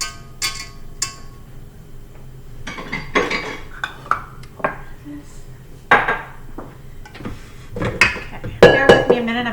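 KitchenAid stand mixer attachments being swapped, paddle off and dough hook on, giving a series of loud metallic clanks and clinks in uneven bursts, close by, with brief kitchen handling noise between them.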